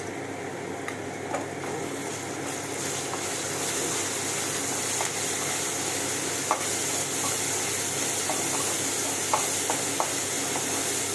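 Garlic paste frying and being stirred in a pan over browned chopped onion for a chicken roast: a close, steady broadband sizzle with scattered scraping clicks from the spoon, no voices.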